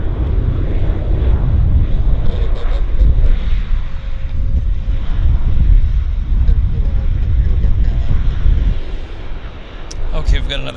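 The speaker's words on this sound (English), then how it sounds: "jet landing." A jet airliner lands at Vancouver Airport, a steady broadband engine roar filling the whole stretch with wind buffeting on the microphone, while faint radio chatter sits underneath.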